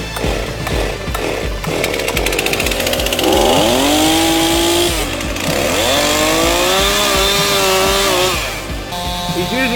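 A state-of-the-art chainsaw fells a tree at a show competition, revving loudly and close with rising and falling engine pitch as the bar bites into the wood, then settles back toward idle near the end.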